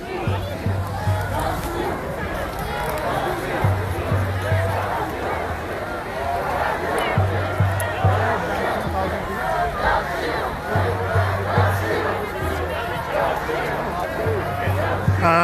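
A dense crowd on a protest march for unity fills the air with overlapping chatter and occasional shouts, a steady nearby hubbub, while a low engine-like hum pulses repeatedly beneath it.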